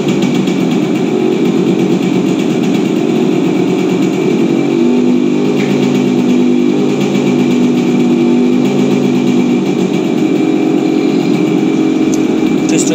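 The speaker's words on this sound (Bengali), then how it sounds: "এখন আমরা গাড়িটা হচ্ছে স্টার্ট করতেছি আর স্টার্ট হয়ে গেছে। সাউন্ড দেখেন।" A Yamaha RX 100 motorcycle engine runs at a steady, loud idle just after starting, a constant close-up two-stroke drone with no talking over it.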